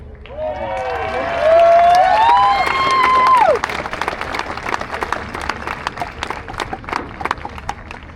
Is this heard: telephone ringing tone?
no